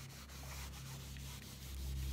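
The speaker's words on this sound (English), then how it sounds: "by rubbing this off just a little bit, I'm not pressing very hard" Paint is rubbed lightly off a canvas during portrait painting, a faint continuous scrubbing texture over a low steady hum, quiet and close with no voices.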